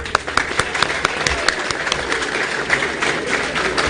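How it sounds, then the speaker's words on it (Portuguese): An audience at a solemn legislative session breaks into a round of applause, a steady dense patter of clapping throughout, with faint voices mixed in. "dar uma salva de palmas para esse monte de mulher bonita aí"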